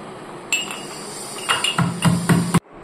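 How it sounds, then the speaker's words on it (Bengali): Garlic, green chilli and shrimp being crushed give a series of sharp knocks and clinks, starting singly and then coming in a quick cluster of hard strikes before stopping abruptly. "আমি রসুনটা, কাঁচা লঙ্কাটা, চিংড়ি মাছটা একটু থেতো করে নিচ্ছি"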